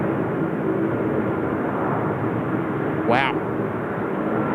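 UPS cargo airplane rolling for takeoff at Seoul Incheon Airport, a loud steady jet engine roar over broad rumble, with a brief voice exclaiming partway through.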